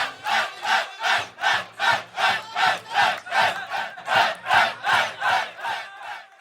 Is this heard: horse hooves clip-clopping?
no